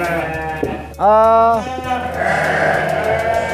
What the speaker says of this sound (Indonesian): menggunakan kambing-kambing lokal, yaitu kambing Garut. Ini kambing Garutnya.